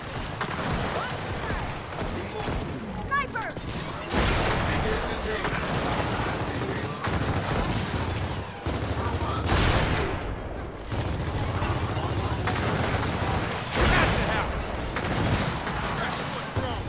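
Sustained gunfire in Gears of War 4 Horde mode multiplayer on Xbox One, dense bursts of automatic fire and blasts continuing throughout with little pause.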